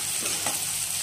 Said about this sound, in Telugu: ఉల్లిపాయలు త్వరగా మగ్గటానికి కొంచెం సాల్ట్ వేసుకున్నా